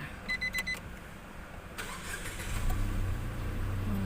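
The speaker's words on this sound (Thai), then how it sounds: "เรามาฟังเสียงเครื่องยนต์กันเลยนะคะ" A 2019 Nissan March with about 27,000 km is started from inside the car. A few quick electronic beeps sound first, then the starter cranks briefly and the engine settles into a smooth, quiet idle.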